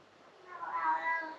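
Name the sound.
cat meowing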